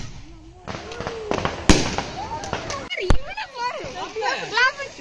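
Repeated sharp Diwali firecracker bangs and crackling pops burst close by, overlapping with excited children's voices and chatter throughout.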